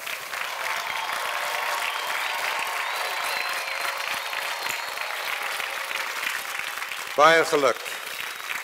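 A graduation crowd keeps up sustained applause for agricultural sciences graduates, and near the end a voice speaks briefly over the clapping.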